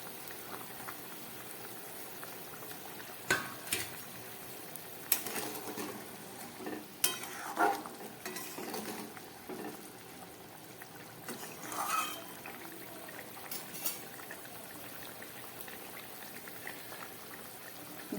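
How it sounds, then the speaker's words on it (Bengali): Fish curry with potato, pointed gourd and tomato bubbling in a pot, soft simmering and liquid burbles with occasional clinks and stirring knocks against the pot, fairly quiet with no voices. "মাছের ঝোলটা ফুটে উঠেছে, সবজিও হাফের বেশি সিদ্ধ হয়ে গেছে।"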